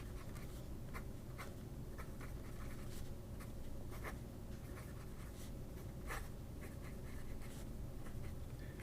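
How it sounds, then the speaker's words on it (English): A Chinese titanium fountain pen with an architect-ground nib scratches across paper in quiet, close strokes, a steady soft scrape broken by brief brighter ticks as the nib lifts and lands. "take a look at how this nib writes"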